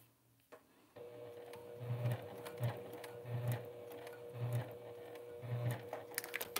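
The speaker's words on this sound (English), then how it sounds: "I'm having with that foot is that I can like hear the stitches skipping" A home sewing machine stitches steadily during bag sewing, its motor hum running under clustered bursts of rhythmic needle clatter that start and stop several times, close and moderately loud, with no voices.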